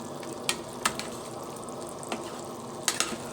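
Adobo with potatoes frying in a pan, giving a steady low sizzle broken by a few sharp clinks and stirring scrapes, with no voices.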